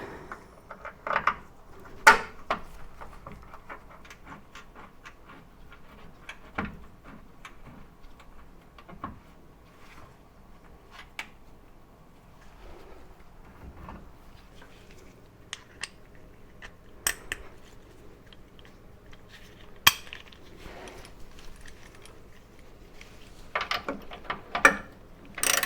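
A hand ratchet clicks intermittently while tightening bolts on the front control arms of a C3 Corvette, giving short, sparse runs of metallic ticking with occasional sharper clanks in a quiet garage and no talk.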